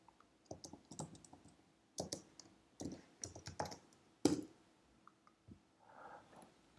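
Keys clatter on a computer keyboard while code is typed, coming in short irregular bursts of clicks with brief pauses between them, close and moderately quiet, with no talking.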